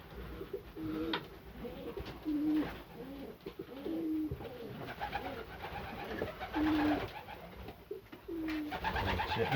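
Young racing pigeons cooing in a loft, several soft repeated coos rising and falling at close range over a busy background of rustling and shuffling.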